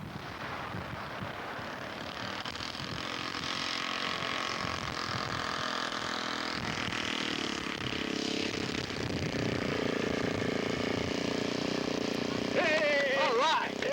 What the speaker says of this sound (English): Enya 80, 4-stroke engine